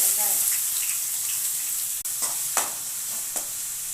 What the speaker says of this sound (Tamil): கடாயில் ஆயில் போட்டுக்கலாம், கொஞ்சம் ஜீரகம் போட்டுக்கலாம், பச்சை மிளகாய் போட்டுக்கலாம், பொடியாக நறுக்கின வெங்காயம்